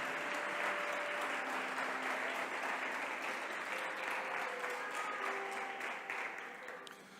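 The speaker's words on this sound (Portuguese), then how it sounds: "dá um aplauso bem forte para Jesus aí" Church congregation applauds for Jesus, with a dense, sustained roll of clapping over faint tonal background sounds that fades slightly at the end.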